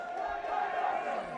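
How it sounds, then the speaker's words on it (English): Boxing match crowd roaring and cheering for Enock Musambudzi, a dense, sustained wash of many voices shouting together, loud and continuous. "The crowd is trying to get Mr. Enock Cho into the match because he's not throwing"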